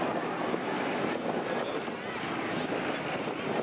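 A Catalina flying boat, the restored "Miss Pick Up", drones at an air show in a steady, dense engine and propeller roar that holds unbroken throughout.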